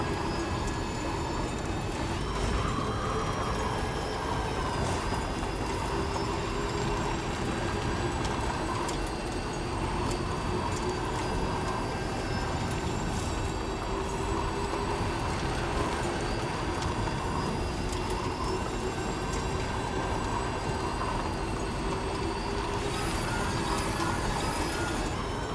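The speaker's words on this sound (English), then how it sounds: "Mogu jednostavno pratiti ovaj monorail ovdje." A monorail train in a video game runs continuously with a steady droning hum and layered whining tones that hold evenly, alone without talk.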